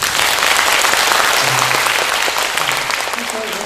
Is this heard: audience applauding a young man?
yes